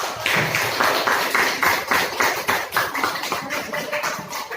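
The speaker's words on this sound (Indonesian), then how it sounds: "Tepuk tangan." Applause from a classroom of students after a group is graded, a steady rapid patter of many hands clapping at close range, sustained throughout with no talk over it.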